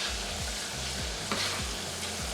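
Stuffed bell pepper filling, seasoned with paprika and black pepper, frying in a pan with a steady, close sizzle and occasional stirring scrapes.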